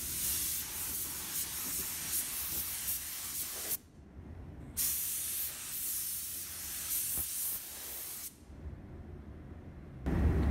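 A paint spray gun lays AkzoNobel color build onto a car fender in a series of close, steady hissing bursts, each several seconds long, separated by short pauses.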